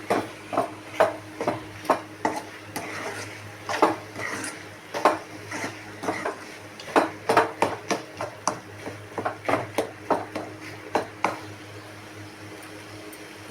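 A spoon stirs chili-spiced food in a cooking pot, a steady series of scraping, clinking strokes against the metal, close and moderately loud with no talking.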